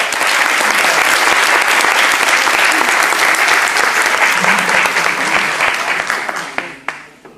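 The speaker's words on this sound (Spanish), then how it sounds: "Un aplauso para..." An audience claps loudly and continuously for Jorgelina at an in-person French cinema class, a dense sustained applause that thins out and fades over the final seconds.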